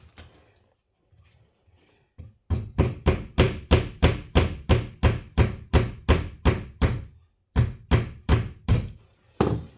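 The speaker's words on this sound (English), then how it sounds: "Just going to pop the insert in with a hammer this time." A rapid, steady series of sharp hammer blows driving a plumbing insert into a pipe, about twenty strikes close by, with a short pause before a final burst of hits.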